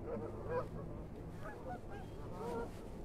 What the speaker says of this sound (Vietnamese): mấy hải âu nữa